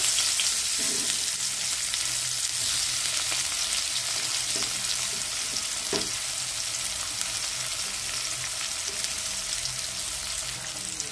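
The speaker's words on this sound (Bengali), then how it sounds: "ওই তেলেই আমি কুচিয়ে রাখা পেঁয়াজগুলো দিয়ে দেব।" Chopped onions frying in hot oil in a pan for a pomfret curry, giving a steady close sizzle throughout with a few small stirring knocks, no talk.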